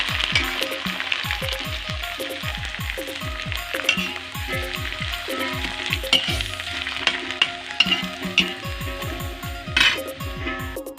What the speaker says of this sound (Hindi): यही पापड़ ला तल हूँ अभी संगवारी हो, मैं यहाँ तलत हूँ पापड़